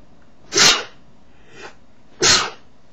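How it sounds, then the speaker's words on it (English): Two loud, close sneezes with a fainter breathy catch between them, heard indoors with no talking. "I'm still going to sneeze right now"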